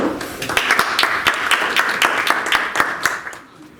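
Audience clapping at a secondary-school public speaking contest greets the next student speaker, a steady patter of many hands with a few sharper claps, fading out near the end.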